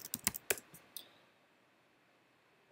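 A short burst of crisp computer keyboard key clicks, several quick taps in the first second, close and quiet, then near silence.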